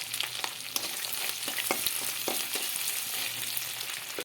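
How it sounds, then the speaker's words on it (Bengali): Onion frying in oil beside already-fried prawns in a pan, a steady close sizzle with scraping stirs and spoon taps, no voices. "পেঁয়াজটা একটু এই তেলেই পাশে একটু ভেজে নিচ্ছি"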